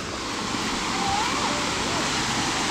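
Continuous rushing roar of a warm waterfall at Phu Sang in Phayao, Thailand, loud and close, with a faint whistle-like tone drifting through the steady wash.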